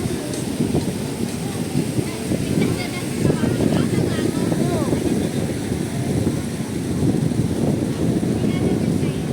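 Strong wind gusts near IFC Tower in an open outdoor square, a steady low roaring rumble buffeting the microphone throughout with little letup.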